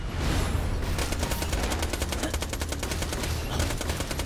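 Rapid automatic turret gunfire from Borderlands: The Pre-Sequel, a dense, steady rattle of shots running loud and close for the whole stretch over a low rumbling game backdrop.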